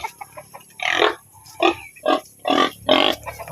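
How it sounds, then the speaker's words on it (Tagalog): Pigs on a farm grunt and squeal in a series of short, loud, close bursts at feeding time, given bran feed, with brief gaps between calls and no talk. "Ngayon, pakain muna tayo ng baboy."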